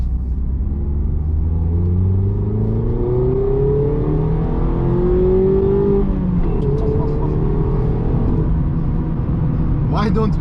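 A Mazda MX-5 ND pulls through a mild acceleration on a quiet country road, its engine note rising smoothly through the revs and then settling after a shift, with steady road rumble underneath and a few faint clicks near the end.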